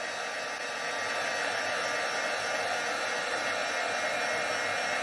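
A heat gun used for heat embossing a Christmas craft project, blowing a steady, loud, broadband whoosh of hot air that stays constant and unbroken throughout with no talking.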